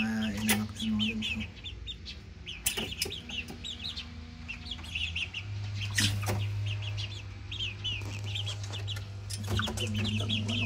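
Two-month-old McLean x Miner blue gamefowl chickens cluck and chirp close by in a yard, with repeated soft calls over a steady low hum and someone talking intermittently.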